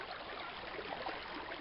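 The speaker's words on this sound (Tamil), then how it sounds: "பாருங்கள், அந்த தண்ணியோட சவுண்டு" A woodland stream flows steadily along a forest trekking trail, a soft continuous rushing and trickling wash with no breaks.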